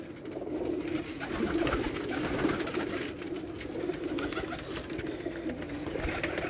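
A flock of domestic pigeons coos steadily and close by, overlapping soft throaty calls running continuously under faint outdoor background noise.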